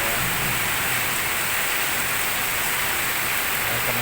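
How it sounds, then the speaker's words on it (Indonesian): Heavy rain driven by strong wind pours down during a storm in Bogor. A dense, steady roaring hiss fills the whole stretch without a break, and no one speaks. "Tentunya saat gede-gede ya suaranya, anginnya kencang dan lebat ya."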